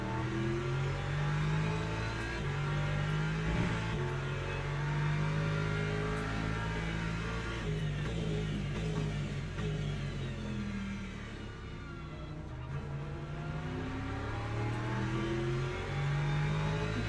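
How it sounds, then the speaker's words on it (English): A Porsche race car in Le Mans Ultimate at Daytona sustains a loud, continuous engine roar with rising and falling revs through gear changes, heard close and alone. "This Porsche's quick on the straights though, isn't it?"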